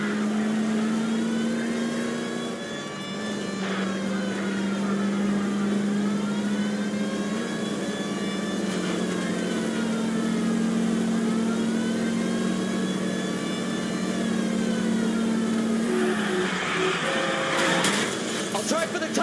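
A car engine in an L.A. Noire chase revs and whines steadily, pitch rising and falling through several gear shifts at moderate volume before a burst of noisy clatter near the end.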